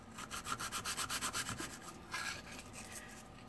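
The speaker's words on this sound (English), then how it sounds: "with just a little bit of sanding work, you can get everything blended back in." Rhythmic back-and-forth hand sanding of a custom car hood, a quick series of raspy scrubbing strokes, then slower, softer rubbing, close and fairly quiet.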